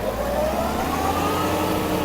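A four-cylinder Kubota GT-3 mini tractor engine responds to the throttle with a brief, even drone and a slight rise in pitch, heard up close and alone.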